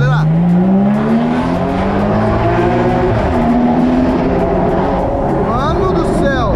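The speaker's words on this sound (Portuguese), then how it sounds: "Vai, vou acelerar." A car accelerates hard, its engine rising in a strong climbing whine through the gears with a brief drop between shifts, loud and close inside the cabin, with voices talking over it.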